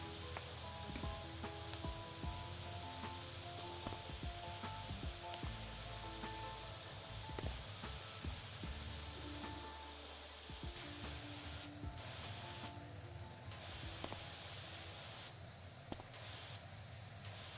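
A pressure washer sprays in Powerwash Simulator's Tomb Raider DLC while cleaning Croft Manor. It gives a steady, hissing rush that runs the whole time under soft background music, faint overall.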